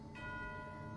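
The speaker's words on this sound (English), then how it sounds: "You hear the sound of a bell." A bell rings in the Genshin Impact video game, with a bright tone that begins partway in and rings on steadily over a constant background hum of game ambience.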